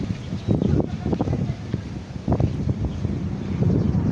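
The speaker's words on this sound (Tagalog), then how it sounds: "Hangin sa labas." Steady wind buffets the microphone outdoors behind a festival mall, with rumbling gusts rising and falling and a faint murmur of voices beneath.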